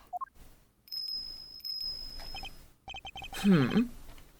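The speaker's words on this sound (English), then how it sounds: "And is that a bell around its neck? That explains the sound, I suppose." Bright tinkling of a small bell worn around an animal's neck, from the video game Ace Attorney Investigations 2, in short jingling bursts amid game sound effects and chimes, with a louder flurry near the end.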